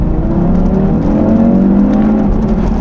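An Audi 2.5-litre five-cylinder turbo TFSI engine revs loudly and close, its pitch rising and falling in a smooth, continuous drone with no talking.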